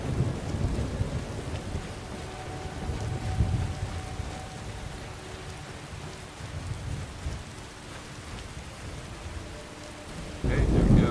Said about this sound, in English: thunder's getting loud and dangerous